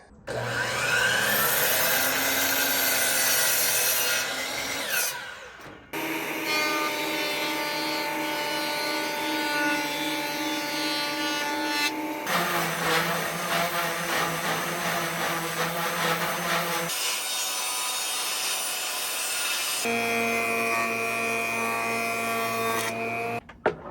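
Woodworking machines in a cold outdoor shop, a planer surfacing old table boards followed by saws cutting them, running loud and steady in several long sustained passes separated by brief pauses, with no talk over them.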